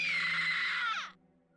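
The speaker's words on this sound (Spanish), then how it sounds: "El silencio que colmaba la sala se rompió súbitamente con el estruendoso grito de Lucy" A loud, sustained scream in a horror narration setting, shrill and continuous for about a second before cutting off sharply into near silence with a faint low hum beneath.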